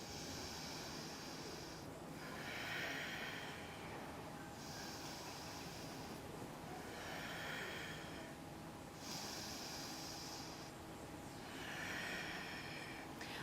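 Slow, steady breathing during a power yoga session, rhythmic inhales and exhales swelling every few seconds in a hushed room, close and soft, with no talking.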